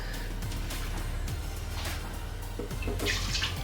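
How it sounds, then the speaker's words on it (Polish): Milk poured into a blender for a vanilla shake, a steady liquid splashing and trickling that runs throughout at moderate level, close to the microphone, with a slightly brighter gush near the end. "Najpierw wlejemy do blendera mleko."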